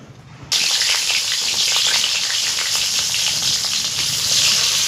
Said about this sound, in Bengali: বেগুনটা আগে ভেজে তুলে নেব।